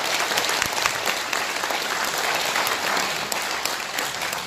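Audience at a conservative political debate forum's opening ceremony applauds after a lawyer's congratulatory speech, a loud, dense, sustained wash of clapping filling the hall from start to finish.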